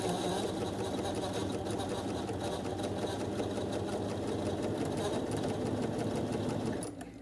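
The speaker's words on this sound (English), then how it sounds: "So we're going to take it over here to our sewing machine." A sewing machine stitches curtain fabric in a steady, rapid mechanical whir with a fine repeating clatter, close and continuous, stopping abruptly near the end.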